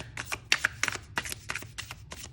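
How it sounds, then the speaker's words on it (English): An Oriens Tarot deck with slightly weathered gilding is side shuffled, giving a quick run of crisp, papery riffling bursts in an uneven rhythm, close and fairly quiet. "And now we have a not so perfect shuffle."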